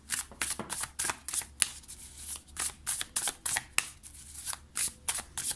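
The Muse Tarot cards being shuffled: a quick, even run of crisp riffling bursts, close and fairly loud, with no voices.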